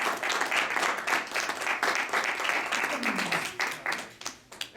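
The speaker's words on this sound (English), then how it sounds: "Give Tiffany a round of applause." An audience at a magic show claps in applause, a fairly light, scattered round that rises and fades over a few seconds.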